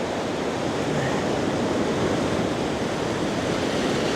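Huge ocean waves breaking at Nazaré, Portugal, a loud, steady, continuous roar of surf and wind-buffeted crashing water with no pauses and no voices.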